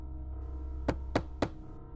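Three evenly spaced knocks on a front door, sharp and fairly close, set against a low steady hum in a quiet night-time horror scene.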